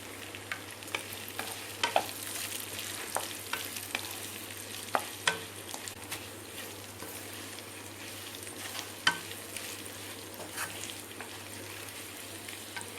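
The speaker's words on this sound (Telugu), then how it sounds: "ఇందులో మనం సరిపడినంత కారం వేసి ఒక 2 నిమిషాలు వేయించుకోవాలి." Mutton liver fries with chili powder in a pan, giving a steady quiet sizzle with scattered clicks and scrapes of stirring throughout.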